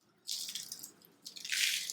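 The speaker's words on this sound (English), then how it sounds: "So I need to water it today." Water poured onto the dry soil of a potted ZZ plant (Zamioculcas) in two splashing bursts, a hissing trickle close by that fades briefly before pouring again, with no talking.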